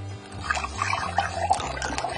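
Birch sap, on its way to becoming homemade kvass, is poured through a funnel into a bottle, giving a steady soft trickle and splash with small gurgles, close by over a low background hum.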